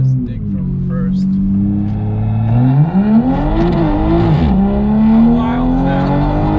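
A Toyota A90 Supra pulls hard from first gear, its engine note rising in a steady climb, holding, then climbing again, loud and close throughout, with voices talking over it inside the cabin.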